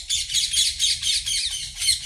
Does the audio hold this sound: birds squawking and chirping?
yes